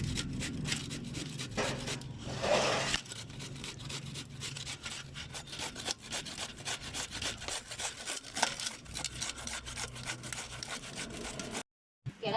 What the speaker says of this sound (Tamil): அடுத்து வந்து அம்மா துருவுறாங்க